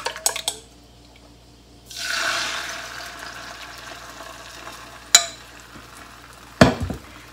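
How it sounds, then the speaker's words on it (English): Egg mixture poured into a hot pan wiped with vegetable oil bursts into a steady sizzle after a quiet start, with a couple of sharp clatters of utensils against the pan. "Then pour the egg mixture"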